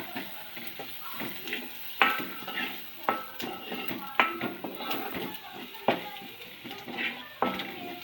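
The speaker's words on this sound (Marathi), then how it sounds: "आपली फोडणी तर एकदम भाजून झालेली आहे मस्तपैकी" A tempering of spices with turmeric and chilli powder fries quietly in a pan, a low sizzle broken by repeated sharp clinks and scrapes of a spoon stirring against the metal.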